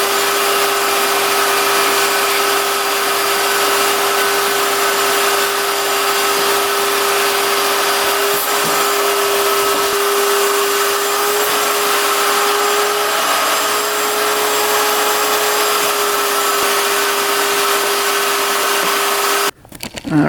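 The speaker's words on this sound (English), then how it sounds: "Let's vacuum that up." Vacuum cleaner sucking a mouse nest out of an ATV headlight housing: a loud, steady whining roar with a constant tone that runs unbroken for about twenty seconds, then cuts off abruptly at the end.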